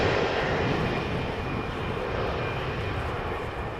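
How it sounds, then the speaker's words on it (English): A five-year-old KLM Embraer 175 regional jet, flight 1414 from Lyon, arrives at Amsterdam Schiphol with a brief, steady engine roar, fairly close and uninterrupted. "Another Embraer 175, this one arriving from France, from Lyon, flight 1414, a 5-year-old airplane"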